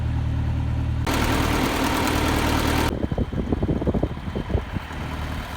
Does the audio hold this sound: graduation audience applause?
no